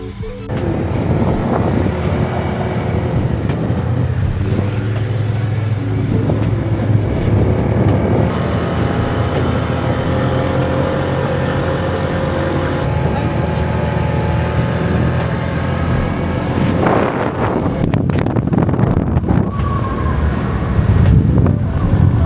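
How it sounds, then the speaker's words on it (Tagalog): A motor warming up, running as a steady low drone for the whole stretch, loud and close with wind buffeting the microphone. "Pinainit niya yung motor."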